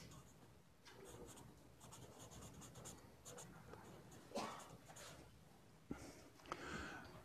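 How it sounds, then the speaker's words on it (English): Pen or chalk scratching out handwriting during a mathematics lecture, soft irregular strokes and taps continuing close by, with a few sharper knocks and faint voice traces in the room. "Let's write that somewhere."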